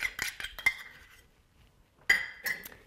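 Natural creamy peanut butter spooned into a mixing bowl: a few quick clinks and scrapes of a spoon against the bowl, a short pause, then another burst of close scraping taps.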